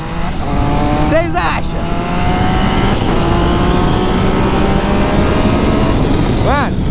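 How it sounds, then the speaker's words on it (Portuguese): Yamaha MT-09 motorcycle engine revs loud and close with a steady, droning tone and a couple of sharp rising throttle blips, while someone talks over it. "tá muito original essa moto aqui"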